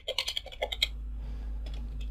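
Keys tap on a computer keyboard in a quick burst of about a dozen close, crisp strokes, then a few softer taps after a pause; no talking.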